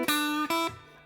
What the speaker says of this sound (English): And with the bending, it sounds like this.